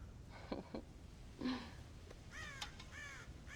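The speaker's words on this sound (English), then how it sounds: "God damn crows!" Crows caw faintly in the Red Dead Redemption video game, a few scattered calls over a quiet, steady background hum, with harsher overlapping caws near the end.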